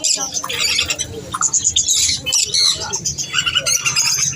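Budgerigars and other caged birds squawk and chirp at a busy Sunday bird market, a dense, loud chorus of overlapping shrill calls up close, with low background murmur beneath.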